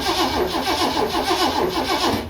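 A 1967 Ford Mustang engine cranks on full choke, the starter giving a rapid, even, rhythmic churn at close range that runs continuously without catching, with no speech.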